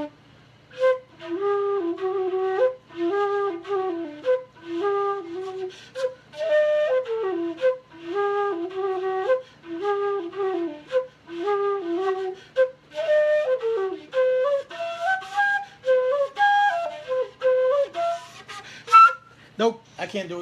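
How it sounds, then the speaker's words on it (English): A solo flute plays a lively, ornamented melody of clear, bright notes with quick flicks and turns between them, close and steady throughout. "I'll see if I can do the butterfly on the flute"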